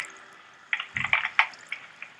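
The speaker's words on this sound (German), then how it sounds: "Wasserfall." Water in the blocky game Minecraft near a lake, heard as a soft steady wash with a cluster of splashy, dripping spatters in the middle of the clip, fairly close and with no talking.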